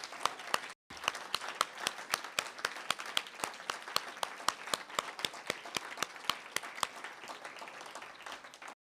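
An audience claps sustained, lively applause after a poetry reading by three authors, with a brief gap early on before the clapping continues steadily to the end.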